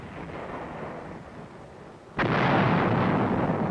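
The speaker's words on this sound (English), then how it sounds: "Artillery's ready." A heavy artillery gun fires once in combat, a sudden loud boom that lands midway and then rolls into a sustained, rumbling roar.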